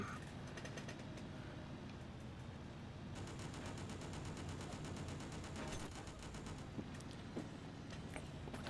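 A fixed turret fires in a video game. After a few seconds of low background rumble, loud, rapid automatic bursts start and continue near-continuously to the end.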